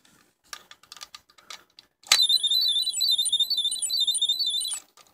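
A few faint clicks and taps come from a simple single-LED alarm device, then it bursts into a loud, piercing electronic warbling tone that runs steadily for nearly three seconds before cutting off.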